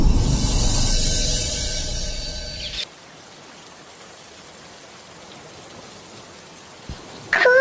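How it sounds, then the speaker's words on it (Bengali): Heavy rain pours in a cartoon forest scene: a loud, dense hiss of falling water with tonal music over it that cuts off abruptly to a faint, quiet background, then a brief loud burst at the end. "খুব জোরে বৃষ্টি পড়ছে"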